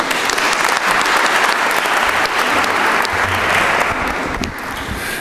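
A forum audience applauds steadily and loudly for a candidate at the Washington County "Who Will Lead Us" political forum, a dense continuous wash of clapping that fades slightly at the very end.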